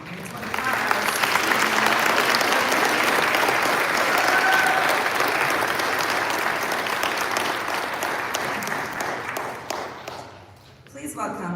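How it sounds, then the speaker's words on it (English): An audience at a high school commencement ceremony gives a long, full round of applause that swells early, holds for about ten seconds, then thins out, with some voices mixed in. "Please join me again in a round of applause"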